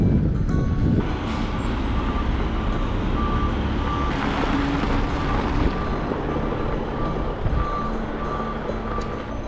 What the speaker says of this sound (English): There's some kind of major construction going on here.